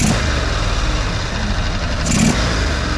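Car engine revved and dropping back quickly toward its base idle during maintenance checks, a loud close mechanical drone with a short rise in revs near the end, no talk.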